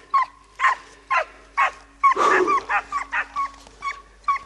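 Hunting dogs on a boar hunt bark repeatedly in short, evenly spaced yelps, close and clear, with one louder, longer burst midway against a quiet outdoor background.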